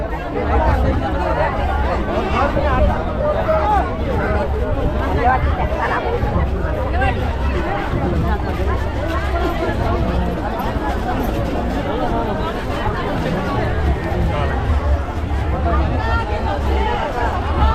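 Dense crowd bustle at the Palshi Supo temple fair, steady overlapping chatter and hubbub from many people throughout, loud and continuous with no single voice standing out.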